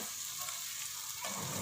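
Beaten eggs are stirred into potatoes cooking in a hot pan for an egg and potato curry, producing a steady close sizzle and frying hiss with soft stirring scrapes.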